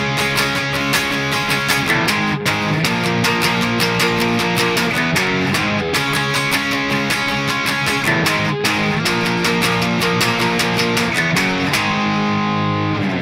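Chorus of a song on distorted electric guitar, steady straight eighth-note power chords strummed up and down, loud and continuous with brief accents, no voices.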